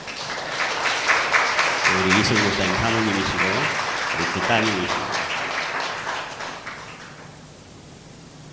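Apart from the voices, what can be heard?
congregation applauding to welcome church visitors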